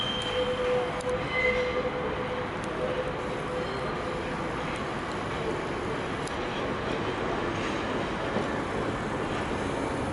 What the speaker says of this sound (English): a train to Manchester Airport is coming in